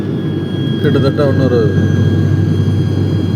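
An airliner descends toward Bangalore airport, its engines a steady, loud drone filling the cabin while someone speaks over it.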